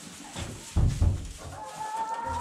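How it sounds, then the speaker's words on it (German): Chickens clucking in a coop on a small farm, with a couple of louder thumping bursts and a drawn-out call near the end, close and moderately loud with no talk. "Das sind so alle Hühner."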